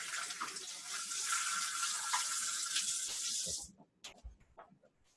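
Liquid from a can pours steadily into a kitchen sink for about three and a half seconds, then stops, followed by a few soft knocks and clinks of handling.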